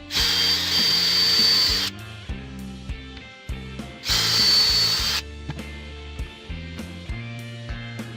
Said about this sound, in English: countersink and pre-drill the screw holes and put in the screws